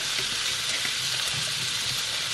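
Zucchini pieces fry in a hot pan at home, a steady close sizzle with faint stirring scrapes and no talk over it.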